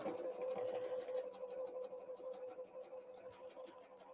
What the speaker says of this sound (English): So I'm just going to sew straight right along there.